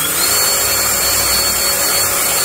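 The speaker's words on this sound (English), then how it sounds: "now what I'm going to do is drill one of the holes" A power drill bores a hole in a DIY bait tank, giving a steady, loud whirring grind that runs continuously and evenly throughout, with no voices over it.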